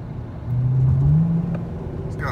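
A Dodge Charger 5.7L police pursuit car with no exhaust accelerates, its engine note rising in a smooth, rumbling pull for about a second before settling. It is heard from inside the car, with a voice talking.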